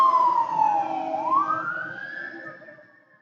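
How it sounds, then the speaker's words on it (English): A fire truck siren wails past, its tone sliding down then rising again as it fades into the distance, with faint traffic rumble beneath. "Actually, the fire truck."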